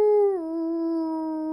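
A human voice imitates a dog-wolf howl: one sustained, clear tone that starts higher, dips slightly, then holds steady, loud and close.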